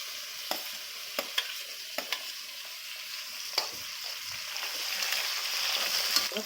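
Onions and tomatoes frying for sambhar give a crisp, hissing sizzle with periodic sharp clicks of a spoon against the pan, the hiss swelling slightly louder toward the end.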